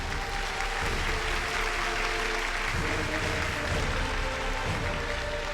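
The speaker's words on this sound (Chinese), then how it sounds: "掌声请出这一对吧，掌声有请" A studio audience applauds on a Chinese television dating and relationship show, a dense, even roar of clapping that holds at a constant level throughout, with no speech.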